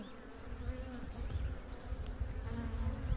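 Honeybees hum around a freshly hived swarm, a steady close buzzing drone with individual bees passing near, continuous and fairly quiet throughout.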